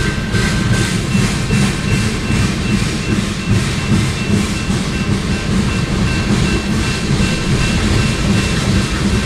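A heavy freight train rolls past at Tehachapi, a loud continuous rumble with steady rhythmic wheel clatter on the rails, close by and unbroken throughout.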